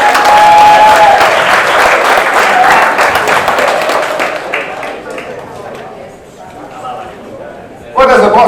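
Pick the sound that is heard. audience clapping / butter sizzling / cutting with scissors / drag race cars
audience clapping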